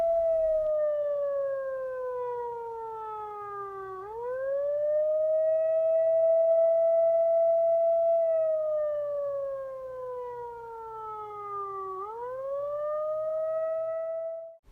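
Sirens from David Lynch's animated short Six Men Getting Sick, a civil-defense-style wail rising and falling in long slow sweeps, loud and continuous with no voices.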